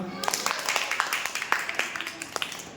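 Hands clap in a steady, moderately loud rhythm of about a dozen claps, with a voice speaking over them in a classroom-style lesson.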